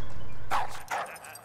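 A dog in the Call of Duty: Modern Warfare multiplayer map Ramaza gives two short barks about half a second apart, close and clear over low background rumble.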